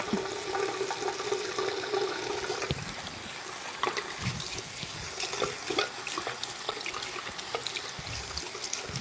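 Water runs from a tap into a bathroom sink while makeup is washed off, with a steady close splashing stream broken by hand splashes and drips and no talking.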